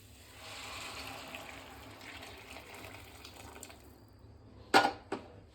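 Freshly boiled water being poured from a pot off the stove into a dish of Halal Guys–style street food, a soft steady gushing that tapers off, followed by two sharp knocks near the end.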